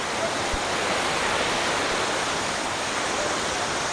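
Olumiri waterfall at Erin Ijesha, a steady, loud, broad roar of falling water that fills the whole stretch without pause, heard from close by.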